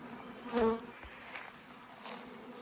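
Honeybees in a forest beside flowering acacia give a steady, faint humming drone, with a few louder buzzes as individual bees pass close by.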